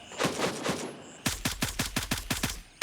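Gunfire in the video game Gray Zone Warfare: a brief scattered volley, a short pause, then a rapid, evenly spaced string of about ten loud, punchy shots.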